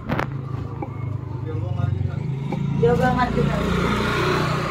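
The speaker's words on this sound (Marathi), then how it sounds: "हा रिवर्स घेत आहे अंकल गाडी" A car backs up on a road in Maharashtra. Its engine rumbles low and steady and builds slightly toward the end, with voices and other background sounds over it.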